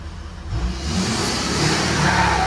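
A Ford Super Duty pickup truck engine revs and climbs steadily, with a rising turbo whine building as it spools up; loud and close, continuous, with no talk.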